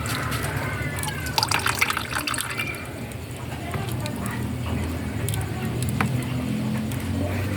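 Water pours and splashes into a cooking pot of glutinous rice, a steady liquid patter and trickle at moderate level with a few louder drips and splashes near the start.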